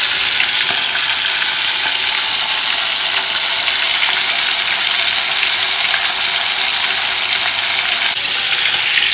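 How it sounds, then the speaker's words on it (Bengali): A hilsa fish head fries in oil in a pan with a loud, steady sizzle and crackle that runs for the whole stretch. Faint stirring scrapes show through the hiss. "আমার ইলিশ মাছের মাথাটা ভাজা হয়ে গেছে"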